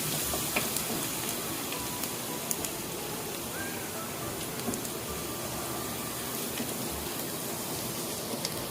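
About a tablespoon of garlic sautéing in hot oil, giving a steady, even sizzle like light rain, with faint crackles scattered through it and no pause.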